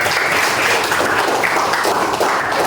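Students in an Islamic religious education classroom clap together, a dense, loud burst of applause that holds steady for a few seconds.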